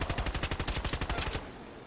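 Rapid automatic gunfire in Fortnite, a fast burst of evenly spaced shots that is close and loud, then cuts off abruptly and leaves a fading tail.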